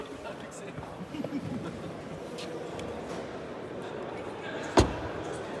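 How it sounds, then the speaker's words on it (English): Heavy door of a 2025 BMW X3 M50 SUV shutting once with a single solid thud, heard over steady background noise and low rumble. "Good closing sound, nice and heavy doors."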